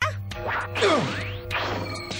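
A mirror smashing in an anime fight scene: a loud crash with a swooping whoosh and glassy clatter over a music bed, several impacts across two seconds.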